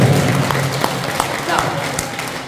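A crowd at a Catholic Life in the Spirit seminar applauds steadily, a dense, loud, sustained patter of many hands with a voice faintly beneath it.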